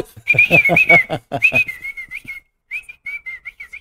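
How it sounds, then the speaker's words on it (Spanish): A person whistles a tune in clear, bright phrases, close and alone, with short pauses between the runs of notes. "y hacerlo todo silbando"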